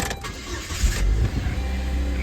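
A 2003 Saturn Ion switched on with the ignition key, giving a close mechanical click and a low electrical hum and whir as systems power up, with no one talking.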